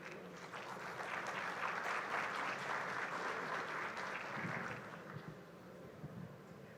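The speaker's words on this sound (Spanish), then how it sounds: "Un fuerte aplauso." An audience at an academic talk on Mexican economic policy and trade treaties applauds loudly and steadily for several seconds, the clapping swelling and then tapering off.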